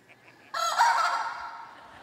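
A single rooster crows loudly and close by, a bright drawn-out call that fades out over a couple of seconds.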